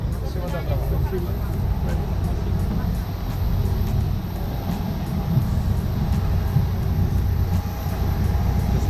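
Steady low cabin rumble of an airliner landing at Sheremetyevo airport in Moscow, a continuous loud roar without breaks, heard from inside with a faint voice under it.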